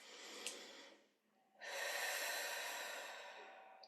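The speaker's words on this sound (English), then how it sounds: "deep breaths in through the nose, holding for a moment, taking in more oxygen if you can, and then exhaling slowly" Deep breaths drawn in through the nose during a guided meditation, a soft airy inhale that fades, a brief pause, then a longer, stronger breath sustained for over two seconds, close and alone.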